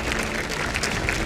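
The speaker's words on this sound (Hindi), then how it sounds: "तालियां बजाओ भाई।" Steady applause from an audience at a gathering honouring javelin thrower Neeraj Chopra, a dense wash of clapping throughout.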